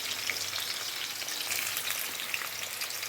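Mutton mince frying with browned onions in a pan, a dense continuous sizzle with crackling spits and light stirring, close and steady.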